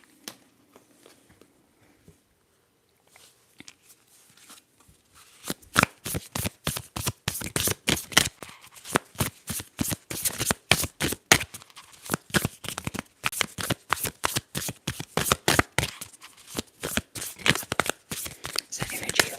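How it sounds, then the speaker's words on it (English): After a few seconds of near silence and light handling, tarot cards are shuffled in rapid riffling bursts, close and crisp, continuing steadily to the end. "So let's shuffle again and see what other numbers are you experiencing at this time."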